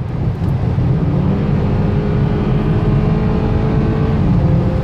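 A BMW 428i two-door coupe with a turbocharged engine accelerating, a steady, loud broadband engine drone heard up close with no talking.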